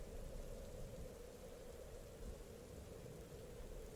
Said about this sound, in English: the room is only filled with the thunder and the rain from outside.